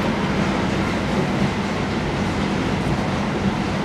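A train passes on the line between London Paddington and Reading, a loud steady rumble of wheels and carriages filling the whole moment with no talking.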